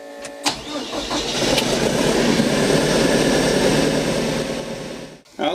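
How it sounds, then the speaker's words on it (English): A TYM 754 tractor engine starts with a short crank and catches, then settles into a loud, steady, close diesel running sound before cutting off at the end. "I'll go ahead and start the tractor here and raise up the loader where we can see it."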